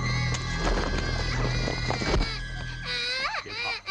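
A child who has fallen into water cries in loud, wavering wails, partly buried under dense, noisy background sound and music, the crying rising clearly near the end.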